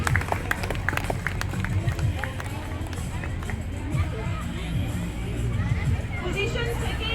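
A crowd at a school sports event claps and stirs with scattered clapping and a general murmur of voices, moderately loud and close, with a voice talking over the crowd noise.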